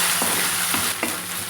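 Ginger paste hits hot frying onions for a palak chicken curry, hissing in a steady sizzle with a few quick stirring scrapes, close and clear, with no talking.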